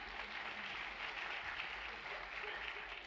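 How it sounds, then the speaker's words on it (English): An audience claps during a plenary conference session, a fairly quiet, steady patter of applause lasting a few seconds. "please give him a clap"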